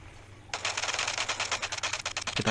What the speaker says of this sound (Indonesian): Kita tembak pakai ini.